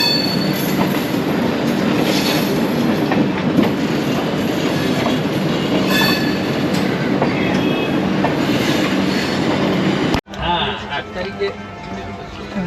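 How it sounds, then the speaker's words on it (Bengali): The Upasana Express (12327) from Howrah toward Haridwar rolls along the rails with a loud, continuous rumble and rhythmic clickety-clack, some wheel squeal, then the sound drops abruptly and quieter movement follows. "ট্রেন ঠিক ছেড়ে দিল কারেক্ট টাইমে"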